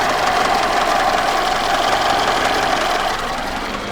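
The engine of a 1994 Fiat Uno Mille runs cold after an ignition service with new spark plugs, cables and coil, a steady close, loud idle with an even rhythmic chatter throughout.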